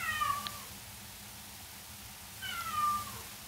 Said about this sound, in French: Je rêve où c'est mon chat.